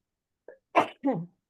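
One sneeze: a brief intake, then a sharp burst with a voiced tail, close and loud against silence.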